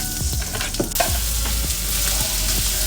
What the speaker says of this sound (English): And then I'm gonna oil up my pan.